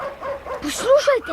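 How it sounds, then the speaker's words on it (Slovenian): A dog barks and yips a few times at a moderate distance, partly mixed in with a voice speaking excitedly, in a dramatized reading of a sea adventure story about a shipwreck. "Pes kar naprej laja."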